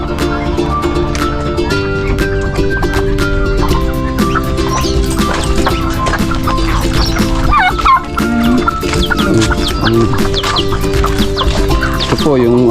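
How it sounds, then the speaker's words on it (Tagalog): Brooding turkey hens clucking in a poultry house, low repeated clucks mixed with other birds and farm noise in a busy, steady background that runs throughout. "Ito po, mga naglilimlim kong pabo."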